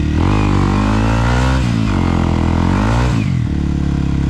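Enduro motorcycle on a trail, engine loud and close, revving hard in sustained surges that dip and climb again.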